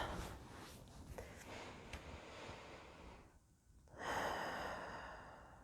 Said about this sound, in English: We're going to close our eyes, take some deep breaths.